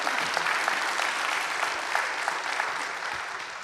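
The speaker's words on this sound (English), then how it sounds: "Can we give our panelists just a round of applause here?" Audience applause for a panel at a church conference, a dense steady wash of many clapping hands filling the room for several seconds, loud and continuous with no speech.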